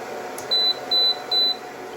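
An xTool F1 laser engraver powers on with three short, evenly spaced electronic beeps over a faint background hum.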